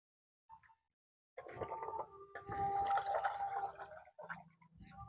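Tap water runs over cauliflower during rinsing, a close splashing trickle that starts after a brief clink. It pours steadily for a few seconds, pauses, then resumes. No voices are heard.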